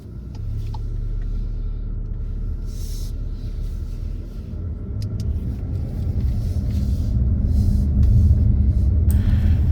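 A car in a mock driving test pulls away from the curb, its steady engine rumble building gradually over about ten seconds, close and continuous with no voices.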